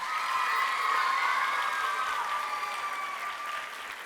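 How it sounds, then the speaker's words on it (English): An audience claps steadily at an elementary school fifth grade graduation ceremony, a dense, even wash of applause from a large crowd that holds throughout and fades slightly toward the end. "So let's give both of them a round of applause."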